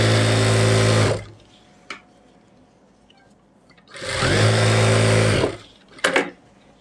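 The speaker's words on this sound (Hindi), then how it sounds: "हम फुल इलास्टिक डालकर और एक सिलाई ऐसे लगाएंगे, बीच में एक सिलाई लगाएंगे ऐसे खींचकर।" Sewing machine stitching full elastic into an Afghani salwar, two loud sustained motor runs of about a second each with a short pause between, plus a couple of brief clicks from handling the fabric.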